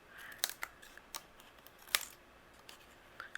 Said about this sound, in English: I'm going to take my scissors and I'm going to trim away each of these strips.